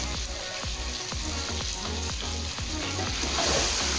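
Bhindi masala, okra frying dhaba-style in a pan, a loud continuous sizzle with a regular run of spoon strokes scraping through it, close up and without talk.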